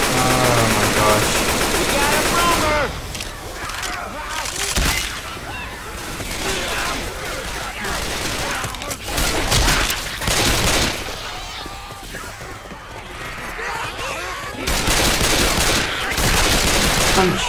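Gunfire in the Left 4 Dead 2 video game, loud rapid bursts and sustained automatic fire from several weapons in close succession, with players chattering over the shooting.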